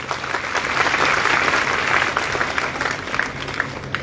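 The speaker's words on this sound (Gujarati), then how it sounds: "એકવાર ઉભા રહો, એકવાર જોરદાર તાળીઓ પાડો આમના માટે" A large seated audience at a community gathering breaks into loud, sustained clapping that fills the whole stretch, dense and close, with a faint crowd murmur underneath.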